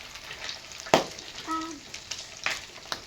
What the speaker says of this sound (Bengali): কাঠের উনুনে রান্না হচ্ছে আমাদের মাছ ভাজি, ভাত।